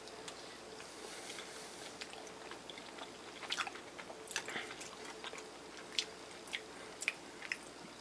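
Close, soft chewing of New England-style clam chowder thickened with crackers, with several brief moist bites and squishes spaced irregularly over a quiet background and no talking.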